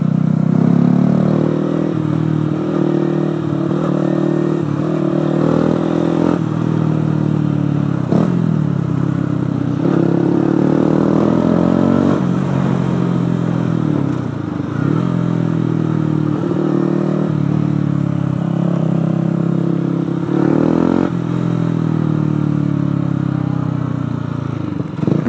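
A Yamaha YZF 125 four-stroke motorcycle is ridden and heard up close, its engine note rising and falling through repeated revs and gear changes, with a steady whirring drone and some mechanical clatter.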